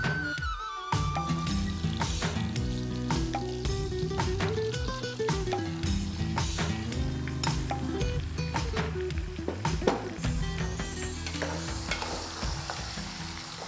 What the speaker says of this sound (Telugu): నూనె కాగగానే మనం కలిపి పెట్టుకున్న మటన్ వేసేయచ్చు.